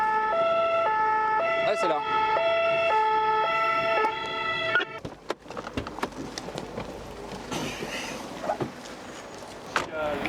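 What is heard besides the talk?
Red Cross ambulance siren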